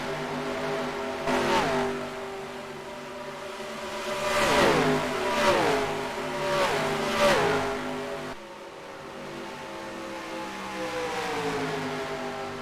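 Vintage 1950s NASCAR stock car engines roar in a racing video game, several cars revving and sweeping past in repeated rising and falling passes, loud and close, with a steady engine drone underneath.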